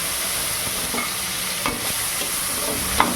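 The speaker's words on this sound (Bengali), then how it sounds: "এবার এই তেলের মধ্যে চলে যাবে কুচনো টমেটো।" Chopped tomatoes go into hot oil for a prawn-and-onion dish, giving a steady broadband sizzle with a few soft stirring clicks and scrapes standing out near the middle and end, close and moderately loud, with no talking.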